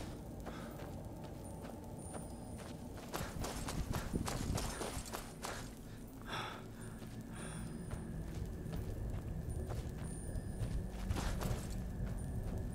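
Horse hooves clopping in Skyrim's Soul Cairn, a steady run of soft game-engine footfalls under an ambient hum, with a few louder bursts of sound partway through.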